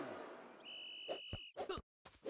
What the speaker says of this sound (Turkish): Düdük çaldı ve maç başladı.